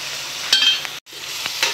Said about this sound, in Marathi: तेलामध्ये आपण आता कांदा आणि टोमॅटो फ्राय करतोय